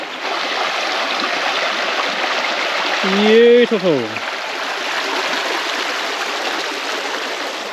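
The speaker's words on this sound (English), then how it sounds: "There's literally running water." A small river stream runs in the bush with a steady, close rushing hiss of water that continues throughout, while a voice briefly speaks over it partway through.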